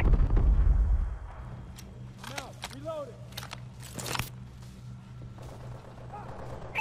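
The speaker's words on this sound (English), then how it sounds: "Friendly bombing run clearing the way" A friendly bombing run in a first-person shooter video game opens with a deep, loud rumbling blast, followed by scattered gunfire bursts and game voice callouts over a low droning background.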